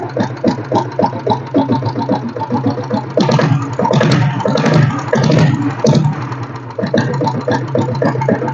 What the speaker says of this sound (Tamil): ஸோ ஃபர்ஸ்ட் இந்த ப்ளூ வண்டியோட பீட் சவுண்ட் கேளுங்க.